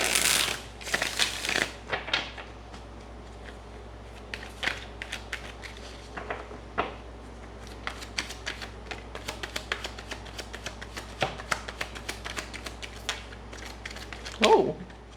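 Tarot cards are shuffled repeatedly in quick crisp riffles and taps, close up, with a brief muffled voice near the end.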